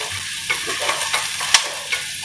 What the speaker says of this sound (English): So we are frying away the onions.